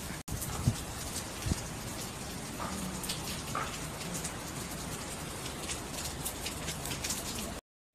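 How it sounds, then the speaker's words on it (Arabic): Heavy rain pours steadily in Beirut, Lebanon, a dense continuous hiss of falling water with scattered louder drops and a few taps, with no voices. "هي مطر صبيب"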